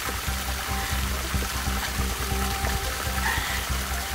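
Water running and splashing from a source used for washing on a hiking trip, a steady close gurgling pour with a rhythmic low sloshing pattern and no talk.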